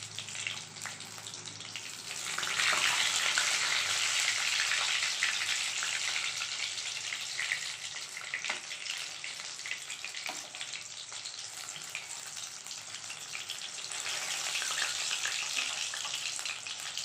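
Topse fish frying in oil over high heat, a dense crackling sizzle that stays steady and close throughout, swelling slightly louder at times with occasional soft pops.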